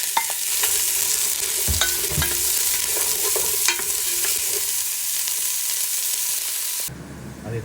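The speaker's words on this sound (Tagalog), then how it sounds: "At start po natin igisa ang ating carrots." Carrots sautéing in a pan, a steady broadband sizzle with scattered scrapes and clicks of stirring, fairly close and loud, easing into a quieter hiss near the end.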